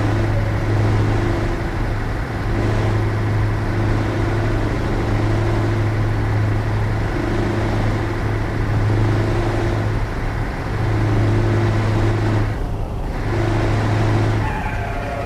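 A Scania truck engine in Euro Truck Simulator 2 drones loudly and without a break, a deep humming rumble that rises and falls slightly in pitch as the truck cruises, with no speech.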